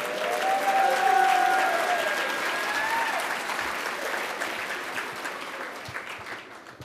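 Audience applause for a stand-up comedian, a steady wash of clapping from a room crowd that swells early then gradually thins and fades over several seconds.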